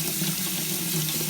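Water runs steadily from a tap into a sink while potatoes are scrubbed clean, a continuous, close rushing flow with no pauses.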